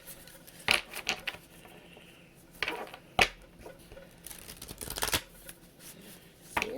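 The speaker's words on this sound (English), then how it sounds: "See, and they don't want to shuffle." Tarot cards are shuffled by hand in quiet, irregular riffles and slaps, with a few sharper snaps standing out, close and soft, no voice heard.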